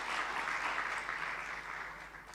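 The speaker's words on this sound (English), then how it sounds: "we can give them a round of applause for that" An audience at a university teaching and learning excellence awards ceremony gives a round of applause, a steady wash of many hands clapping that slowly tapers off.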